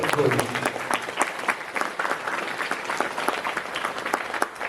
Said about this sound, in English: give him a good love, good round of applause